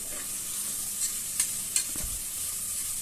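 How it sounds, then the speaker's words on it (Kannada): Capsicum, cabbage and mixed vegetables fry in hot oil with a steady bright sizzle, broken by a few soft stirring scrapes and light clinks, alone without any voices. "ಕ್ಯಾಪ್ಸಿಕಮ್ಮು ಮತ್ತು ಕ್ಯಾಬೇಜ್ನ ಹಾಕ್ತಾಯಿದ್ದೀನಿ ಮತ್ತು ಮಿಕ್ಕೆಲ್ಲ ತರಕಾರಿಗಳನ್ನು ಕೂಡ ಹಾಕ್ತಾಯಿದ್ದೀನಿ"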